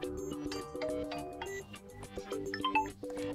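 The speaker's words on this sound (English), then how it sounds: "select one of those system ringtones" Dreamy Jazz alarm ringtone playing from an OPPO A18 phone, a mellow jazzy melody of bright chiming notes and soft chords, steady and clear with no talking.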